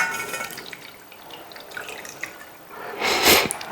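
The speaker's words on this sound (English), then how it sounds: "We're going to add 300 milligrams of" Water pours into a saucepan for a home remedy, a dripping, splashing trickle that builds to a louder, closer gush near the end, with no talking.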